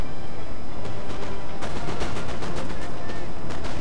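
Musket volleys crackle in a Napoleonic-era battle in the game Napoleon Total War, with dense, rapid bursts of gunfire building from the midpoint over constant battle noise while someone speaks over it.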